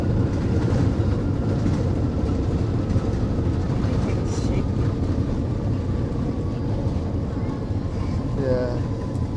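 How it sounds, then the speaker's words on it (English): A Boeing 787-8 Dreamliner makes a hard landing and rolls out on the runway, heard from the cabin as a steady, heavy roar of engine and rolling noise that lasts throughout, with faint voices near the end. "Ooh, that's a hard landing."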